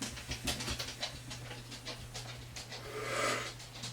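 An old pit bull dog pants in short, rapid breaths, close and fairly quiet, with a steady low hum underneath and a soft broadband swell near the end.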